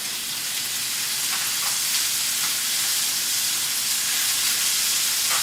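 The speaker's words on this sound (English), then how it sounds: "So you can hear sizzle, really hard sear." A porterhouse steak sears hard in hot oil in a pan, giving a steady, loud, close sizzle and hiss that holds evenly throughout with no voices over it.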